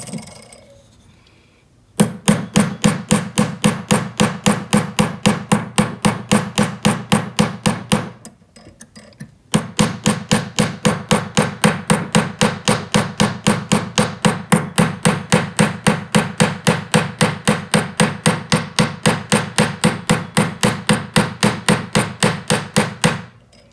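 Rapid, evenly spaced hammer blows ring on a metal wide band ring, texturing it, loud and close, with a brief pause before the steady tapping resumes and carries on alone.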